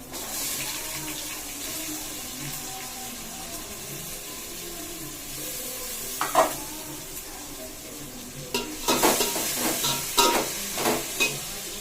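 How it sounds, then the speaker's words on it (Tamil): Onions and tomatoes cooking in a pan for a mutton kuzhambu, with a steady soft sizzle and wet stirring scrapes that grow louder and busier toward the end, no voices. "வெங்காயம், தக்காளி போட்டு வதங்கணும்."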